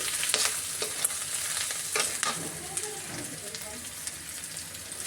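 Onion frying in oil in a kadhai for a paneer curry, a steady close sizzle with scraping stirs and spatula clicks throughout, faint voice murmur underneath.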